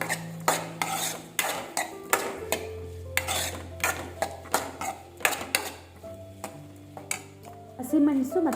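Brinjal pieces frying in plenty of oil are stirred in a metal pan, the spoon clanking against the sides in a steady series of sharp scrapes and knocks, close and fairly loud, with a voice speaking over the cooking.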